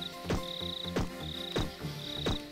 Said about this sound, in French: Le bruit de ce donjon avec des vieilles cigales.